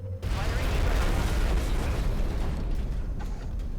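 A heavy explosion from a Shredder rocket in the strategy game XCOM Enemy Within. The boom is loud and close, followed by a long, dense rumbling roar of debris that slowly fades over a few seconds.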